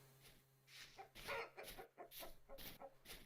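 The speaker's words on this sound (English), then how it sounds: "There's a rooster." Rooster in the video game Vintage Story, giving a series of repeated clucks and squawks, close and fairly loud, with no talk.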